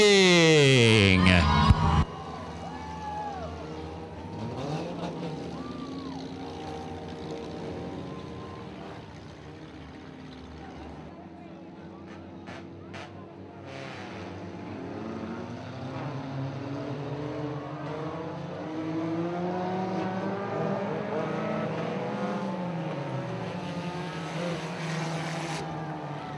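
Dirt Demon race cars in a feature race at Valley Speedway drone steadily around the front straightaway, engines rising and falling over a sustained roar with wind on the microphone and a loudspeaker announcer talking over it.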